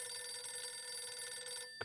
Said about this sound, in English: Why does this phone make that noise?